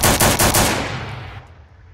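Rapid bursts of automatic gunfire in the online shooter game South London 2, four loud shots at the start that trail off into a fading echo, with no talk.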